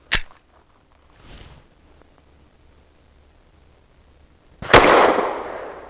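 Two sharp 9mm pistol shots fired from a 4.25-inch barrel with 124 grain loads, a loud crack at the start and a second, heavier report with a long decaying tail near the end, quiet between.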